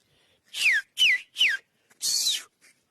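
A shepherd whistles four sharp, descending calls to sheep, three short blasts then a longer one, loud and close, with brief pauses between them.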